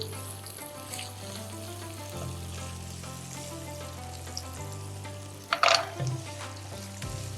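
Chicken karahi fries softly in a pan with a faint, steady sizzle and a low hum, broken near the end by a brief clatter as skinned almonds are added.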